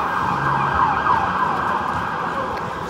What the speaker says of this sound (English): You can hear the police cars and ambulances.